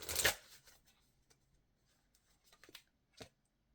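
A deck of Elemental Oracle cards is shuffled up close, one quick riffling burst at the start followed by faint scattered card slides and taps.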